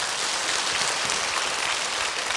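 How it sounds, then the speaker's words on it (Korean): Soft, even clapping from a Buddhist Q&A audience gives encouragement to a questioner, a continuous wash of many hands heard at a moderate distance. "격려의 박수 부탁드립니다."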